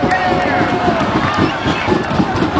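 Steady roar of a crowd in the stands at a high school football game, a dense, continuous wash of cheering and babble with some nearby voices mixed in.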